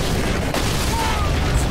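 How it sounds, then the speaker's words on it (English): Grenade blasts in the Halo video game: a loud, close, booming explosion rumbles throughout the short burst, with game audio layered on top. "Two grenades."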